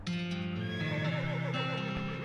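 A horse in the game West of Loathing lets out one drawn-out, wavering whinny, close and clear, lasting about two seconds.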